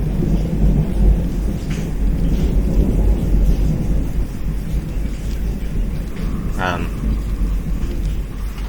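Rain and thunder in Minecraft 1.19 make a steady, dense downpour with deep rolling rumbles throughout, and a voice talks over the weather sounds.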